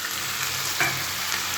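Chopped tomatoes and chicken fry in a pan, giving a steady broadband sizzle that stays fairly even throughout, with a brief stirring scrape near the middle and no talk.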